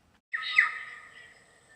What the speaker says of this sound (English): Little Barrier Island is home to more threatened bird species than any other island in the whole of New Zealand, and these are some of them